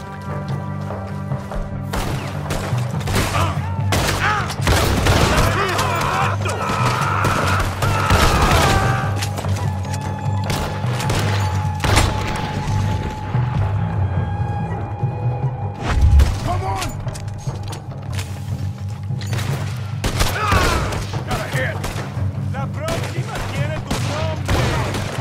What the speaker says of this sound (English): I might use a shotgun more often, this is kind of fun.